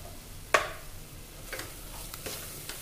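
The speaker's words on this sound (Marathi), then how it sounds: "त्याला छान परतून घ्यायचं आहे" Chole masala sautéing in oil in a pan, with a sharp stirring scrape near the start, then a low sizzle and a few lighter stirring clicks.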